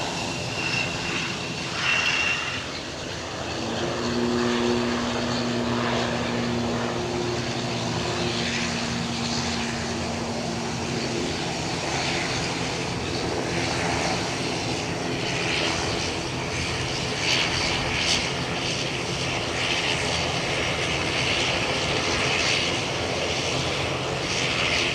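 A Delta Airlines jet inbound from JFK arrives at Edinburgh Airport, its engines producing a continuous loud roar with some tonal whine early on, steady throughout and without speech.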